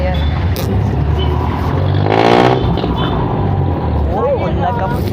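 Jeepney engine droning steadily while riding, a loud low rumble with a brief swell midway, overlaid by passengers talking.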